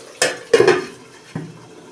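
A metal lid set down on a cooking pot of potatoes in a small home kitchen, with a few clinking knocks and a clatter followed by a lighter tap, close and alone without talking.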